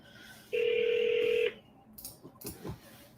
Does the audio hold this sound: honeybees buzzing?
no